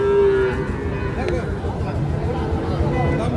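A young Sahiwal bull calf, about seven to eight months old, lows at a busy cattle market, a drawn-out moo near the start over a thick murmur of crowd chatter and nearby voices.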